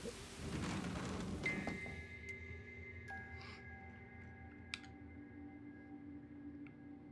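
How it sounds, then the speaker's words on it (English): Rumbling thunder and rain from the video game Master Detective Archives: Rain Code, with artificial rain made by a bathhouse; a loud, broad wash at the start fades under sustained tonal game music and a few faint clicks. "we know that the bathhouse is creating the artificial rain"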